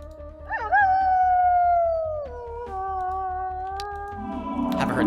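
Summoned wolf howling in the fantasy strategy game Eador Genesis, one long loud sliding howl that drops in pitch over about four seconds above a steady low rhythmic pulse, then ends in a burst of noise.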